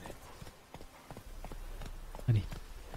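Horse hooves clip-clop at a steady trot in The Witcher 3 video game, a fairly close rhythmic patter running throughout, with voices faintly present beneath.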